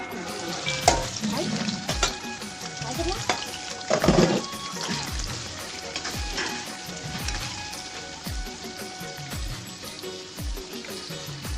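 Paneer frying in a pan for a home-cooked paneer sabzi, a steady loud sizzle with occasional stirring clinks and spatters throughout.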